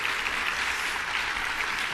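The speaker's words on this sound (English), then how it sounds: "Thank you for that round of applause." A conference audience at a hospice and palliative care gathering applauds in an even, continuous wash of clapping, moderately loud and uninterrupted for the whole moment, with no talk over it.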